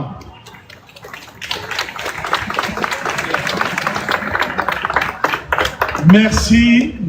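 An audience at a live political gathering claps for a speaker in a dense, continuous burst of applause, with a voice rising over it near the end.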